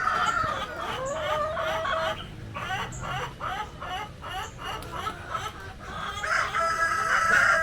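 Several egg-laying hens cluck nearby on a brown-egg farm in Quezon, Isabela, in a steady, busy chatter, with a rooster-like call toward the end and no clear speech.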